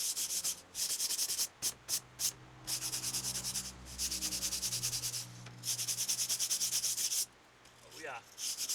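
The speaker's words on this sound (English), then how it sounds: "give it a quick wire brushing, make sure there's no loose stuff that's going to interfere with adhesion" A wire brush scrubs a plywood surface in long, loud rasping strokes, with short pauses between passes and no talking.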